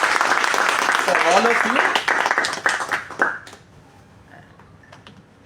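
A class gives a round of applause, with lively clapping for the first few seconds that thins to scattered claps and fades out. A voice speaks over it.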